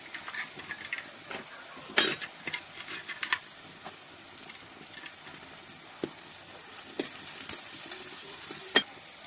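Shallots fry in a pan for a mushroom roast, giving a quiet steady sizzle with occasional clinks and scrapes of a spoon stirring against the metal.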